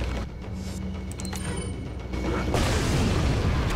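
A grenade explodes in Resident Evil 4, a loud broadband blast swelling in around the midpoint and rumbling on to the end over mechanical game noise.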